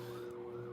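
An emergency vehicle siren sounds in the background of a live stream, a steady wailing tone that stays faint and distant under low room noise.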